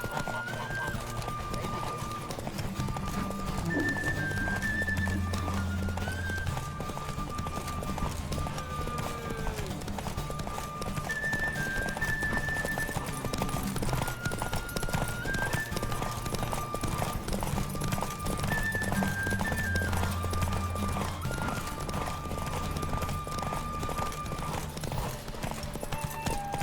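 Roach, Geralt's horse in The Witcher 3, gallops at a steady clip-clop rhythm throughout, with occasional neighs and whinnies over game ambience and music.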